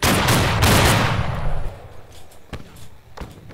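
Musket volley in the online game Battle Cry of Freedom during a line battle: a dense roar of overlapping gunfire that fades, followed by a few scattered single shots, with little talk.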